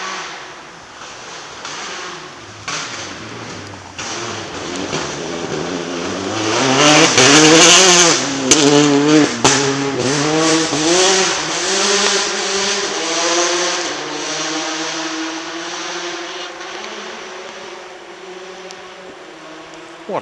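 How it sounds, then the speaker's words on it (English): New WRC rally car engines revving hard and bouncing off the limiter at a stage start line, a loud rasping drone with rising and falling pitch, close by and sustained. "these new WRC cars off the start line, and they sit there revving on the limiter"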